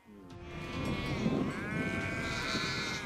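An Ala-Too breed sheep bleats in a long, wavering call that carries on through most of the moment, close and fairly loud over a dense background of farm noise.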